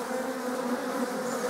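Honey bees in a hive during a late-season inspection, a dense continuous buzzing hum, close and steady throughout.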